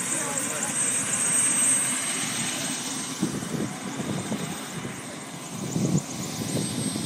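A helicopter landing at Ste-Anne de Bellevue, its rotor and engine a steady loud roar with rhythmic chopping pulses, while people talk nearby over it.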